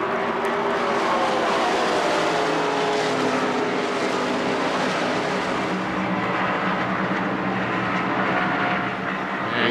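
Stock cars racing at the 1998 Brickyard 400 at Indianapolis, a dense, steady roar of many engines at full speed with pitch shifts as cars pass, loud and continuous with no speech.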